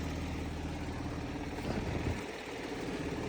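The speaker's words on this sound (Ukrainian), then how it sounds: "Трактор працює як оса, без нарікань" A tractor diesel engine runs steadily while ploughing corn stubble with a five-body plough, a loud, even low drone that dips slightly in its lowest rumble near the end.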